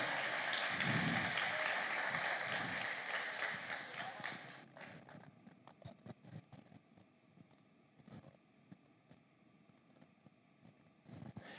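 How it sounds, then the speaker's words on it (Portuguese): A youth conference audience bursts into loud applause for about four seconds; it then fades into scattered claps, footsteps and light room noise, with brief voices nearby. "Vamos aplaudir, vamos aplaudir."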